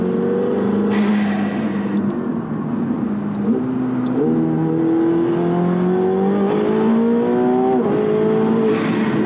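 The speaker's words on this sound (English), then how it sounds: "you have all your noise coming from the back with the engine being rear mounted on these cars" A 900 hp McLaren 720S rear-mounted engine revs up hard through rising gears, loud and continuous, with short gearshift breaks and faint crackles.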